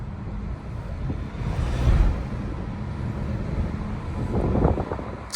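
Mercedes-Benz E180 W214, 170 hp, accelerating in sport mode: a muffled engine hum and road rumble heard from inside the cabin, swelling gently twice, with no one talking.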